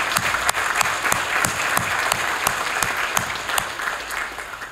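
Applause from a commencement audience honoring corporate sponsors, including RBC Royal Bank, at the International College of the Cayman Islands graduation. A dense, steady wash of many hands clapping fills the hall for the whole stretch without easing.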